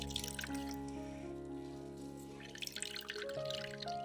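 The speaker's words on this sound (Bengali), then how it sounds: "এবার এই কাপড়টা চিপে মানকচুর এক্সট্রা জলটাকে বের করে দেবো" Water trickling and dripping as salted taro wrapped in cotton cloth is squeezed, a soft liquid patter over a steady tonal background hum.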